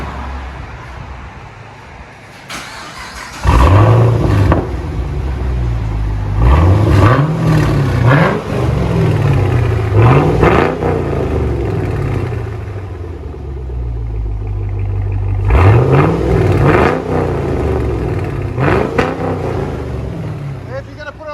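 From inside the cabin of a Chevy Camaro SS, its 6.2L V8 with Flowmaster Outlaw exhaust rumbles through a series of loud, repeated rev blips that rise and fall steadily over a low droning idle.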